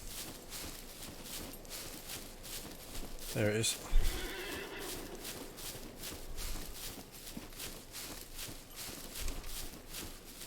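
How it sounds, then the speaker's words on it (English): In a video game, a horse whinnies once, loud and close, amid steady rhythmic hoofbeats that continue throughout, while a person speaks briefly. "I hear a horse."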